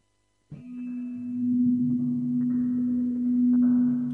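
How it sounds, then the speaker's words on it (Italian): A sustained metallic, ringing tone from a Q (Cue) VST sample loop starts abruptly and hums steadily, with faint shimmering overtones and soft glassy clinks layered beneath. "Metallic and Glass Melodies."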